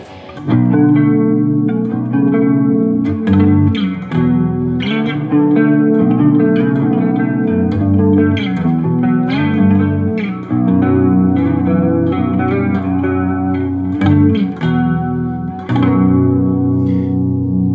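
An electric guitar plays chords and riffs through an AZOR analog chorus pedal, with a shimmering, warbling chorus effect. It is loud and continuous, with a slight reverb tail.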